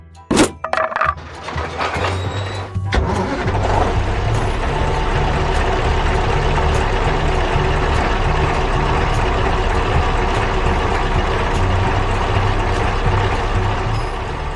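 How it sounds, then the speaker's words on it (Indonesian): Truck speeding along in a 3D construction animation: a sharp crack and thuds open, then a steady loud engine drone with a low hum continues throughout. "Truknya mulai melaju kencang."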